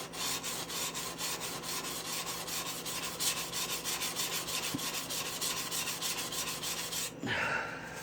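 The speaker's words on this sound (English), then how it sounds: "I do all my initial lap work on these coarse yellow stones" A hand plane iron is lapped by hand on a coarse yellow sharpening stone, producing a steady rhythmic rasping rub, stroke after stroke at a regular pace, close and continuous, with a brief scrape near the end.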